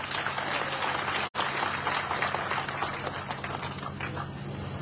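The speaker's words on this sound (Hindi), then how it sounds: "मुझे लगता है जोरदार ताली बजानी चाहिए आपको।" Steady, sustained applause from a large crowd at a BJP political rally in Rajasthan, heard from a distance with a single brief dropout partway through.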